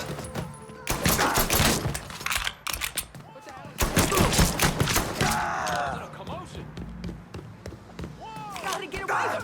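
Bursts of gunfire in the video game Mafia 3, loud irregular volleys with short breaks between them, mixed with voices and other action sounds.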